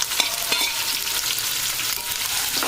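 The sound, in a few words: onions frying in oil with green chillies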